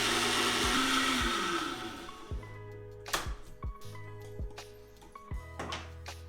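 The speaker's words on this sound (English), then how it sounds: "Close it up and whisk it again." Curd whisked in a closed electric blender for raita: a steady motor whir for about two seconds, then it cuts off, followed by scattered clicks and knocks of the lid and jar.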